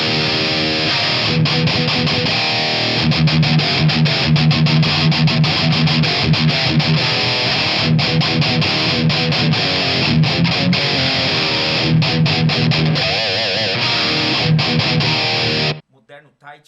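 Electric guitar played through a Nux Trident pedal with the mids cut and a very short room reverb, a steady dense distorted tone ringing for about fifteen seconds before stopping abruptly.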